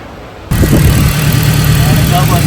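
A turbocharged Honda Civic Si engine, freshly fitted with a welded intercooler pipe and exhaust and dyno tuned, catches and runs at a loud, steady rumble in the shop, with people talking over it.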